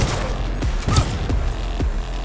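Gunfire in the video game Cyberpunk 2077 sounds as a rapid burst of loud shots over a dense, noisy game soundscape.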